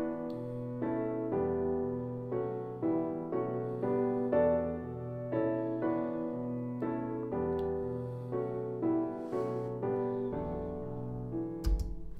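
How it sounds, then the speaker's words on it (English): A piano plays a harmonized melody in E Dorian with parallel chords in a Ravel style, moving in steady repeated chord strokes at moderate volume, alone with no voices, for about twelve seconds. "so the whole thing sounds like this on the piano."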